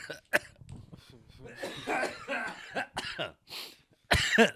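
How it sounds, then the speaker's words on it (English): Someone coughs close to a microphone, a few harsh bursts scattered among throaty noises and muttering, ending with a louder fit of coughing. "I've been waiting a year to cough into this microphone."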